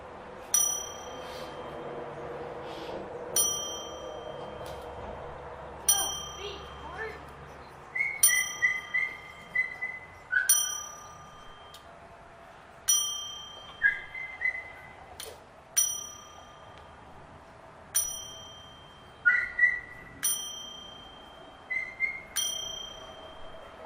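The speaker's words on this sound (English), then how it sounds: "we are going to do the 10-bell salute" A wrestling ring bell is struck about ten times in a slow, evenly spaced ten-bell salute at a tribute show, each sharp metallic ding ringing out and fading before the next, alone in a hushed arena.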